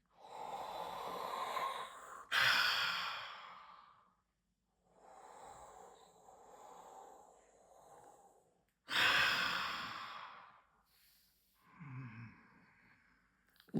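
Slow, deep breaths during a breathwork session: long audible inhales and sighing exhales, some sharp and forceful, separated by quiet pauses, close and intimate with no speech.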